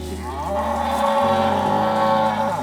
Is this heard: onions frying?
no